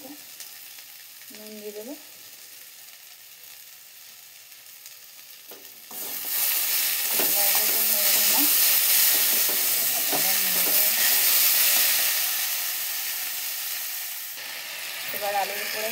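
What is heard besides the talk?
potatoes frying with turmeric, stirred in a pan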